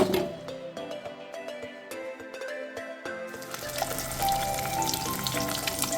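Masala sizzles in a pan on low gas after about four spoons of sour yogurt go in, starting softly under a tonal background and growing into a louder, dense frying hiss.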